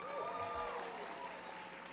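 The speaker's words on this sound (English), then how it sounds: "How about a round of applause for these two?" Applause from an audience fills the clip, a dense steady patter of clapping with some faint vocal tones riding over it.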